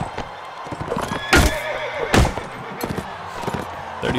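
A horse in the Mount & Blade: Warband video game neighs loudly twice in quick succession amid battle clatter and hoofbeats, with no talking.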